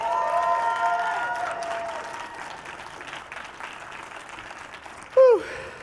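A conference general session audience applauds and cheers for Leo Herrera, a crowd ovation under a lingering sung or sustained tone that fades, then a short loud whoop near the end.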